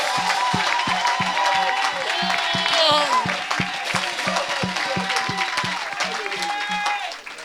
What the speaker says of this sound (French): donnez une grande acclamation à Jésus-Christ